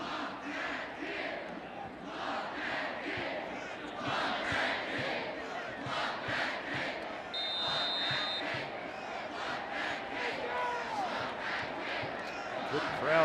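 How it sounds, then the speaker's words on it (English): Large crowd noise fills a college football stadium during Mississippi State at Arkansas at Reynolds Razorback Stadium, a steady roar with swelling chants and cheers throughout, with speech mixed in. "Good crowd here at Reynolds Razorback Stadium"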